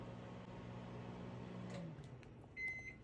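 A microwave oven cooking camel meat gives a quiet, steady mechanical hum that winds down. A short burst of high electronic beeps follows near the end.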